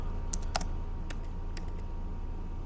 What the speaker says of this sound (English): And you type Papua